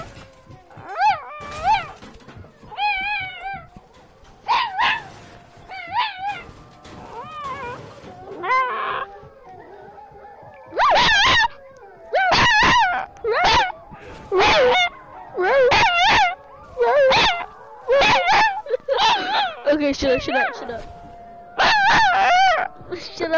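A dog barks, yips and whimpers repeatedly in close, loud bursts, with a person talking between and over the barks.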